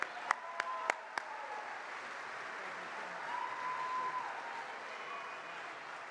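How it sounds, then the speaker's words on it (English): An audience at an awards ceremony gives a few sharp, separate claps, then settles into faint, distant, sustained applause. "Let's have a good round of applause for Buddy Shaffer."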